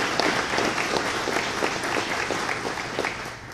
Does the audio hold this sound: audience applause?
yes